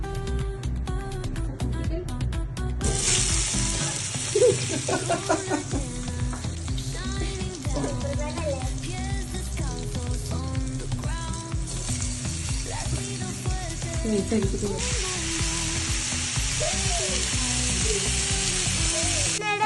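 Pineapple pieces fry in hot oil, a steady bright sizzle running throughout, laid under dense background music with no speech.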